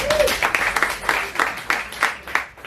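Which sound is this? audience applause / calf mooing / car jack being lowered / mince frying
audience applause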